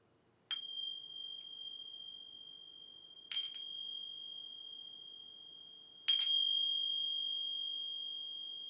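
Three bright, ringing bell strikes spaced about three seconds apart, each starting with a sharp ding and then a long, clear tone that slowly fades into near silence.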